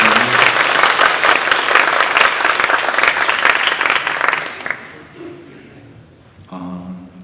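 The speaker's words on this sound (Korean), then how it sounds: "예, 우리 격려의 박수, 응원의 박수." Church congregation at a Sunday worship service claps in encouragement, a loud, dense burst of applause that fades out near the end, leaving quieter room sound.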